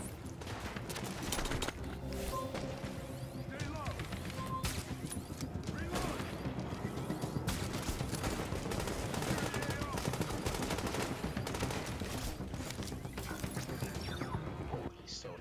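SMG fire in a shooter video game during a hard-difficulty fight at Grand Central Station: dense, rapid bursts of automatic shots run continuously with other loud combat noise.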